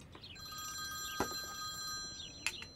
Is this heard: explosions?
no